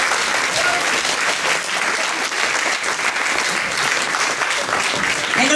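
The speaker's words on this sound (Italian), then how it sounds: "un bel applauso, è più che meritato" A theatre audience gives loud, dense, sustained applause for students at a school performance, continuous clapping throughout with no pauses.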